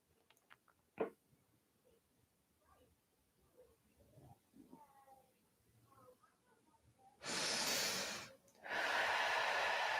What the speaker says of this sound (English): we're still breathing in through the nose and out through the mouth